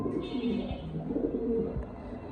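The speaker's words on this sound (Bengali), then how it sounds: "দর্শক নরের ডাকটাও দেখা দিলাম" Male White Beauty Homer pigeon cooing close up in a soft, throaty series of repeated low coos.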